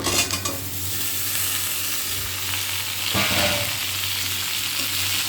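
Vegetables stir-frying in a pan with fried onions, a steady loud sizzle throughout with stirring scrapes and a sharp clatter near the middle, no talking.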